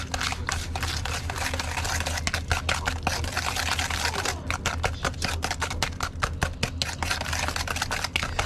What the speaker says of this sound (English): I'm going to whisk that till all the sugar is dissolved.